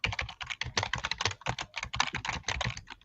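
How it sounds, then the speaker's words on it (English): Rapid, busy typing on a computer keyboard picked up over an open microphone during an online sale, with dense clattering keystrokes that run steadily for several seconds, close and clear with no voices. "We can hear you typing like a maniac."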